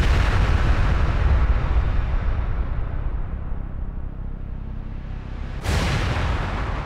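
Bombs explode during the Vietnam War, heard as a heavy, sustained, rumbling roar of distant blasts that slowly fades. A fresh, sharp detonation then bursts in loudly near the end, with no voices.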